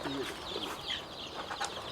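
Kuroiler desi chickens on an Indian poultry farm cluck and chirp in a dense, continuous flock chatter, close and fairly loud, with a voice faintly beneath.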